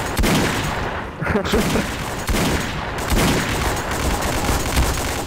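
Heavy gunfire in the multiplayer video game Trouble in Terrorist Town, sustained overlapping bursts of shots filling the whole stretch, loud and chaotic, with a player's brief voice heard over it.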